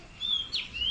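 Birds chirp near a small pond in a roadside area of Malappuram, giving short, high, thin calls that sweep and repeat over steady background noise, with no voices.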